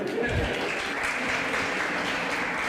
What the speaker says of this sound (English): You can clap for him too.